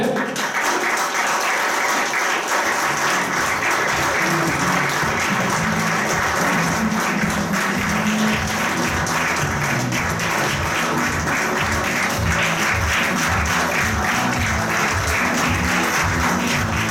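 Conference audience applauding as a speaker walks to the front, sustained loud clapping that settles into a rhythmic, unified beat partway through, with no speech over it.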